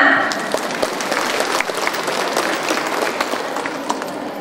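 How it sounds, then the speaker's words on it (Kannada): An audience claps and applauds together at an International Women's Day celebration in 2024, with sustained dense clapping throughout, close and loud, and a few sharper individual claps standing out. "ಸೊ ನಿಮಗೋಸ್ಕರ ಎಲ್ಲರೂ ಒಂದು ಚಪ್ಪಾಳೆ ಹೊಡೆಯೋಣ."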